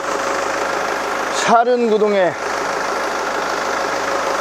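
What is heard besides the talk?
used 4WD SUV engine idling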